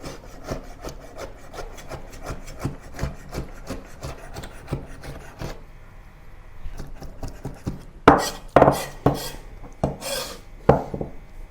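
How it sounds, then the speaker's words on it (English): A knife roughly chops raw shrimp into small pieces on a cutting board for dim sum beancurd skin rolls: a fast run of light, regular strokes, a brief pause, then a few heavier, louder chops, with no talking. "give the shrimp rough chops into small pieces"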